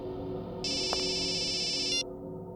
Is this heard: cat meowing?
no